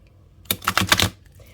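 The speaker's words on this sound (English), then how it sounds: "Let's give it a good shuffle." A short, quick riffle of a tarot deck, a fast flurry of crisp flicks lasting about half a second, close up with no voices.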